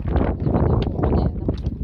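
Steady coastal wind on the island of Inis Oírr buffets the microphone, a low, rumbling roar with gusty swells and no voices.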